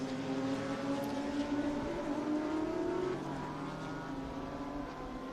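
Race cars at Virginia International Raceway in an IGT field, engines droning and revving together as the pack bunches up, a steady dense roar with rising and falling engine tones and no talk.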